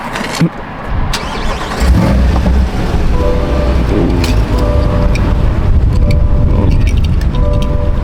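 A Corvette C8 Stingray's mid-engine cranks and catches, then roars up to a loud, steady rumble that holds close and strong for the rest of the stretch.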